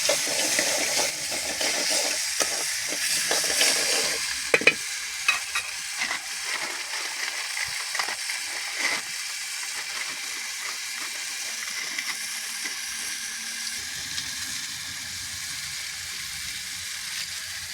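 Maggi noodles seasoned with chilli, turmeric and salt fry in a pan with peas, a soft sizzle under irregular stirring clatters that are busiest early, then settle to a quiet hiss; no speech.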